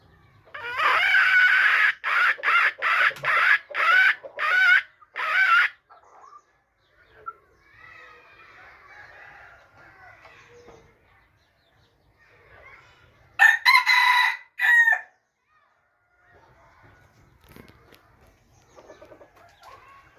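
Roosters crow loudly and repeatedly at close range in a farmyard, with a second burst of crowing later and softer hen clucks scattered through the quieter stretches.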